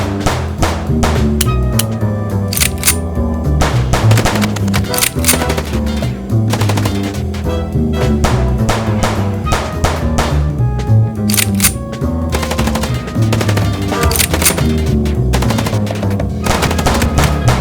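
Dense, continuous automatic gunfire rattles without pause through a video-game car chase in Chicken Police, loud rapid bursts over a busy game soundtrack.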